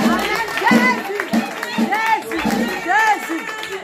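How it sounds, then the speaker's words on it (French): A congregation at a nuptial blessing for the Cassat couple cheers and applauds, with loud rising shouts and voices over crowd noise and scattered clapping throughout. "On acclame encore Dieu"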